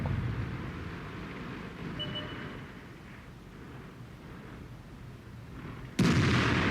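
A JgPz E 100 tank destroyer fires its cannon in World of Tanks, one sudden, loud, booming blast at the end that cuts through a low rumbling engine drone, with no talking.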